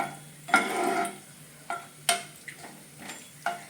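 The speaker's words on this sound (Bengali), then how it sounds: "এর উপর পনিরগুলো দিয়ে গোটা গরম মশলাটা একটু সর্টে করে নিই" Paneer and whole garam masala sautéing in a pan, soft frying sizzle broken by several sharp spatula scrapes and clinks against the pan, close by, without speech.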